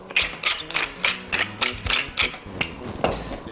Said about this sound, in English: We're going to use black pepper. And a lot of this will fall off, so don't be shy. Come on, pepper grinder.